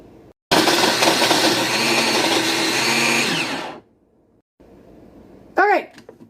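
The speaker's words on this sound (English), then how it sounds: "I'm going to use my little bullet blender here" A small bullet blender whirs loudly and steadily for about three seconds, then cuts off, followed by quiet room sound and a brief voice.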